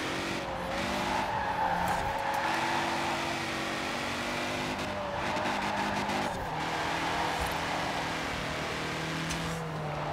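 A classic James Bond Aston Martin DB5 with special wheels drives hard in Forza Horizon 4, its engine droning and revving through gear changes while tires squeal and skid continuously.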